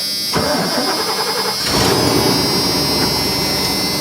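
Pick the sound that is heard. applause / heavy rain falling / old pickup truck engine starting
old pickup truck engine starting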